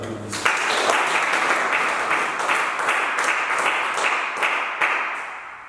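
A church congregation at a French-language worship service claps together for several seconds, a dense wash of applause with a few sharper rhythmic claps standing out, fairly distant and moderately loud.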